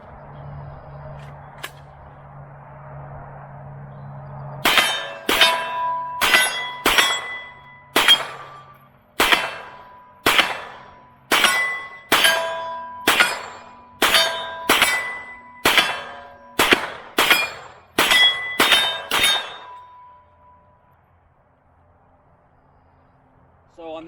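A Palmetto State Armory AR9 fires 124 grain rounds at steel targets: about fifteen sharp, loud shots in a steady string, each followed by a ringing metallic clang, then quiet.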